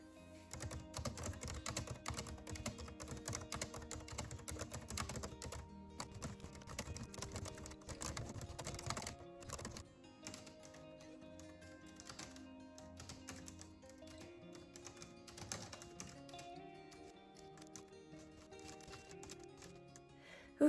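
A typewriter clatters through a long stretch of continuous rapid keystrokes, close and fairly soft, with occasional pauses and brief heavier knocks.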